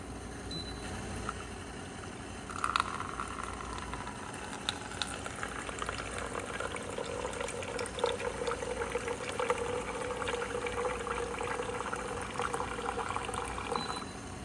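NOVETE countertop reverse osmosis water filter dispensing a 4-ounce pour, a steady hissing trickle of water running into a cup for several seconds, close and continuous with no talk.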